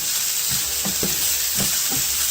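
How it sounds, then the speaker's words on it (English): Onion sweating in a pan, a steady sizzle with a few soft stirring scrapes spread through the clip, close and moderately loud with no talking. "Now you don't want to caramelize the onion, you want to sweat it down, get it nice and soft and golden, but not caramelized."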